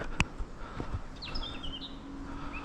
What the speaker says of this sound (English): Peaceful, quiet, just birds tweeting away.